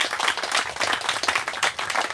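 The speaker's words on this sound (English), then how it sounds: "Please join me in a round of applause." Audience at a veterans cemetery chapel and office groundbreaking ceremony giving a round of applause, dense and lively clapping close by, sustained and even throughout.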